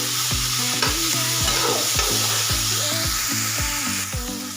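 Salted tomatoes sizzle steadily in a hot pan while a utensil scrapes, stirs and mashes them in a quick, repeated rhythm, close and loud.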